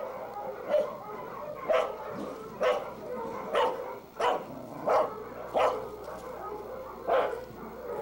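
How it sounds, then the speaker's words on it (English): Several dogs at a field-trial kennel bark in separate, evenly spaced bursts, fairly close, with faint yips and whimpers between the barks. "Time to let the dogs out."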